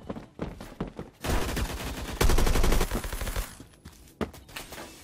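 Rapid bursts of automatic gunfire in the online shooter Phantom Forces, with a FAL rifle in use, loud sustained volleys broken by short single shots and brief pauses.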